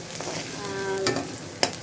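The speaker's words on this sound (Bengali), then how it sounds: "সেই পেঁয়াজটাকে আমি হালকা একটু ভেজে নেব" Chopped onion frying in hot oil in a pan, a short soft sizzle with a brief clink of a utensil near the end, no talking.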